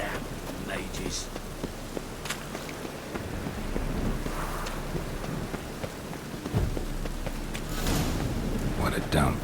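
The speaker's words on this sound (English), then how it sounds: "Rain again. Damn mages." Steady rain from The Witcher 3: Wild Hunt falls as a broad, continuous hiss over a low rumble, with brief brighter bursts and a voice talking over it.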